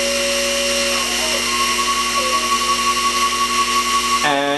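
A milling machine cutting a small steam gland for a Stuart Beam model engine, giving a steady, close whine with tonal machine hum that shifts pitch near the end.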